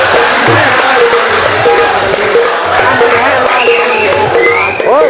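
Live stage comedy audience at a qawali-themed comedy show, a loud steady mass of clapping and crowd noise with cheering and whoops, continuous throughout, voices mixed into the din.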